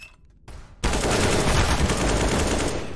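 Gunfire in the video game CS:GO during a Phoenix co-op mission: a quieter start, then a dense, loud burst of rapid shots that runs without a break to the end.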